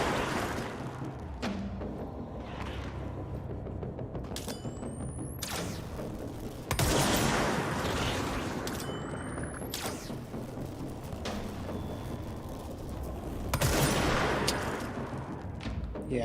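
Enemy gunfire in the video game Control, repeated booming shots and thuds in bursts over a dense, busy backdrop of game effects, with a few sharp rising whooshes.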